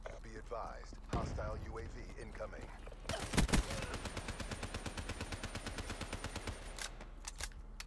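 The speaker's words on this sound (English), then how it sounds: "I'm emptying all my fucking bullets into your ass." Rapid bursts of automatic gunfire from Call of Duty Black Ops 3, loud and close, starting abruptly partway through and repeating in quick rhythmic volleys, mixed with a heavy impact and ambient game noise.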